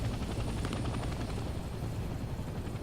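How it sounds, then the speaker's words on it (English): Helicopter in the video game Hell Let Loose Vietnam, a steady loud rotor chop and engine roar filling the whole stretch with constant dense low rumble and no pause. "Take out that chopper."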